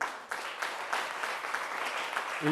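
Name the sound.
audience applause for the production crew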